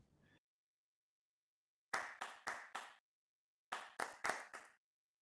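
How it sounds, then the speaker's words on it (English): Two close, crisp bursts of hand clapping, each four sharp claps in quick succession, separated by silence in an otherwise quiet room. "All right, clap, clap, clap, clap, clap, clap."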